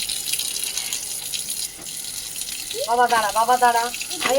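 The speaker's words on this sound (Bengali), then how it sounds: "আর এখানেও জামা কাপড়গুলো কাচ্ছে" Hand-washing of clothes in water on a sunny rooftop, steady splashing and running-water wash throughout, with voices talking over it and louder rhythmic sloshing near the end.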